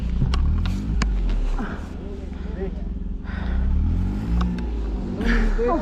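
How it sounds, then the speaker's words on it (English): A car stuck in a snowstorm at Khardung La revs its engine hard while its front wheel spins in snow, the roar rising and falling in bursts as people shout over it. "आगे वाला पहिया घूम रहा है"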